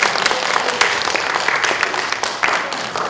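An audience at a forum on peace and reunification in Washington, DC claps steadily for about three seconds, a dense, moderately loud patter of many hands with no talking over it.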